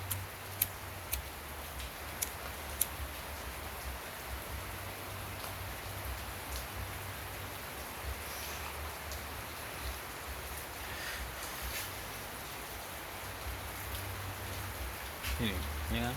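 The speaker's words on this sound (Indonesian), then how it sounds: "masih hujan kan" Steady rain falls continuously with a dense hiss, occasional sharper drips ticking close by, and a low hum underneath.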